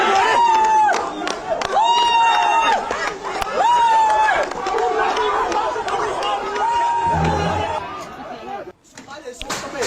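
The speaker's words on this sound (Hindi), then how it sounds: "बेकाबू भीड़ ने इस तरह एसपी ऑफिस पे हमला किया है" An unruly mob storming a police superintendent's office in Kangpokpi, Manipur: loud crowd shouting and chatter with bangs and thuds, a siren-like wail rising and falling repeatedly, chaotic and close.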